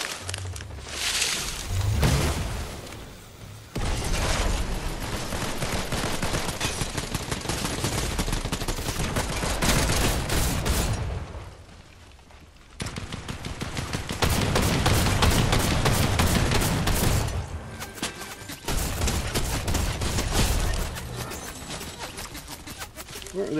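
Sustained enemy gunfire aimed at the player in an Optimus Prime video game, dense rapid bursts and volleys running nearly the whole time with brief lulls, while voices talk over the shooting.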